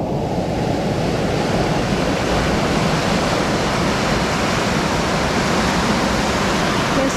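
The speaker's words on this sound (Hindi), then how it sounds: "ये देखिए गंगा जी का यहाँ से फ्लो देखिए" The Ganges river rushes by close at hand, a loud, unbroken roar of churning water and wave-like surging with some wind noise, steady throughout.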